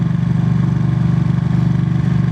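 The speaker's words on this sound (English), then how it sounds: "Why not have a massively loud bike when you've got a Ducati?" A Ducati Panigale V2 sport motorcycle engine rumbles steadily at low revs, a deep, loud throbbing exhaust note that holds even throughout with no voices.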